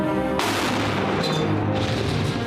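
A loud airstrike explosion in Syria erupts suddenly and booms heavily, the blast rumbling and lingering for a couple of seconds afterward.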